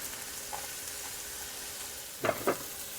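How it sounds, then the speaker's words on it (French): Onion and garlic fry in a pan for a beef chili stew, a steady close sizzle with a couple of louder scraping stirs near the end and no voices. "On va maintenant pouvoir ajouter l'oignon et décoller tous les sucs."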